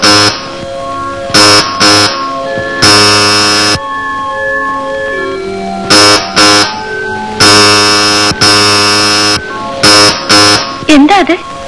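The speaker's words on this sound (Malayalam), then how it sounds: "എന്താ അത്? കുഞ്ഞിന്റെ അലാറം കോളാ." Alarm call bell buzzer in a 1981 Malayalam film scene, sounding in loud repeated on-off bursts of tonal buzzing with short gaps, and a brief voice-like warble near the end.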